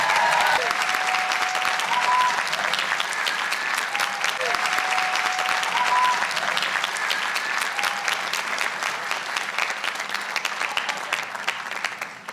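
Sustained applause from a large audience at a computer science commencement ceremony, dense and even, with a few faint tones and voices beneath, tapering slightly at the end.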